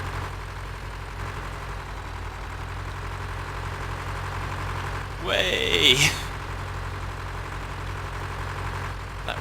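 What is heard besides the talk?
tractor engine running in video game Farming Simulator 2013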